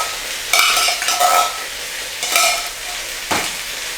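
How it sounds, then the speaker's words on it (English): Red kidney beans in chili sauce are stirred in a pot for a plant-based chilli, giving three scraping, sloshing strokes against the pot under a steady low simmer, close and fairly loud with no voices. "Give those a stir."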